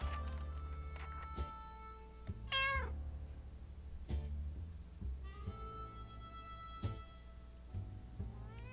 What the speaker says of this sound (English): Yes, put the kitty cat in.